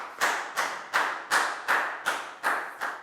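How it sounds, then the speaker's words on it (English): A class of pupils claps for a student during a Year 4 maths lesson, heard as a short series of about eight sharp, evenly spaced claps in a steady rhythm, close and moderately loud. "a big round of applause for Prel"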